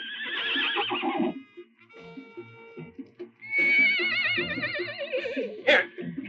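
Several horses whinny loudly in a 1968 spaghetti western film scene, shrill wavering neighs rising and falling, with a sharper snort-like call near the end and some background rumble.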